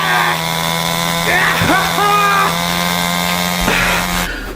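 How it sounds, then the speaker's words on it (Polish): A chainsaw runs with a steady, buzzing engine drone through nearly the whole stretch, close and loud, while shouting and screaming voices rise over it before it cuts off abruptly near the end. "Ludzie, piłą mechaniczną!"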